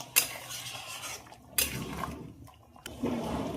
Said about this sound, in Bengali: জল দিয়ে খুব ভালোভাবে মিশিয়ে দিলাম।